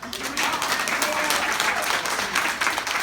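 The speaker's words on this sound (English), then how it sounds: "Give Amber a round of applause" Audience applause at a business expo keynote brunch, a dense, steady wash of clapping from a crowd, fairly close and sustained throughout.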